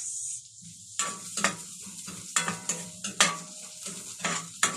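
Garlic and onion sauté in a hot pan with a steady sizzle, while a utensil scrapes and stirs at irregular intervals and the sharp scraping strokes stand out close and clear. No one speaks.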